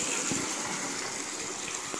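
Water gushing steadily through a pipe into a well in a village clean-water system, a continuous loud rushing splash close by with no break or talk.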